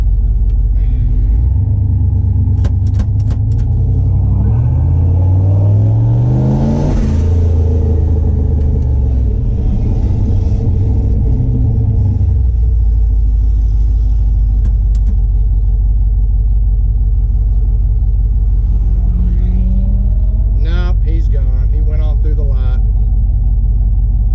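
A turbocharged LS-swapped C10 pickup running on 12 psi boost, with a loud, close engine drone rising and falling through revs, steady low rumble throughout and a sharper rev burst near the end.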